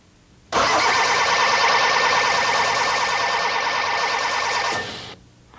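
A car's starter motor cranks the engine during a starting-system check, giving a loud, steady whirring drone that begins abruptly, runs about four seconds and cuts off sharply, with no talking.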